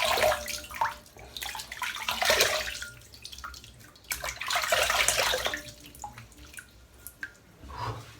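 Water splashing and trickling as a freshly shaved head is rinsed at a bowl, in several bursts of running, dripping water with short pauses between them, close and fairly loud.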